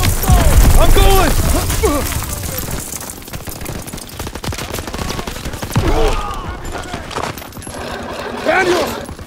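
Rapid gunfire in the World War II shooter game Call of Duty WWII, loud dense bursts of automatic fire with scattered shots and impacts over a battle din, while voices shout throughout.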